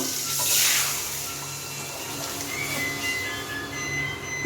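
Water pours steadily into a pot of dal on the stove, a continuous close splashing and rushing stream that runs for several seconds without pause.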